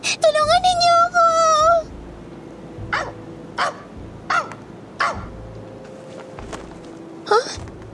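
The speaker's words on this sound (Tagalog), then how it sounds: "Aso ba yun?" A dog lets out a series of short, sharp barks spaced a second or so apart, following a high wavering cry at the start, set in a spoofed horror comedy story.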